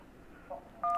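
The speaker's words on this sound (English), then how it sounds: "If you can't talk, please press any digit on your phone" Telephone keypad tones from digits pressed on a phone during an emergency call, a single steady dual-tone beep near the end after a fainter tone, clear and alone.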